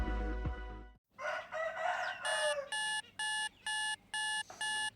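A rooster crows loudly and close by, with a long ragged call, then a beeping alarm clock sounds in five regular pulses.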